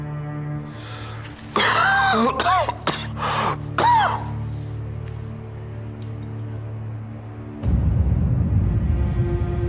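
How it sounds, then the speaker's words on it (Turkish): A man coughs deeply and harshly in a tense drama scene, coughing up blood: several rough, voiced bursts close together over a couple of seconds, followed by a low steady background rumble. "Komutanım içli içli öksürüyorsun."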